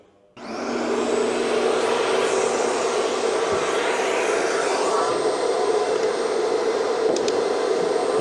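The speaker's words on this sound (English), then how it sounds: "I'm gonna get after this fuel tank and try to vacuum out all that rust" Shop vacuum cleaner sucking rust out of the fuel tank of an old Michigan loader, switched on with a sudden start and then a steady, loud whining roar that holds constant throughout, with occasional faint rattles of debris.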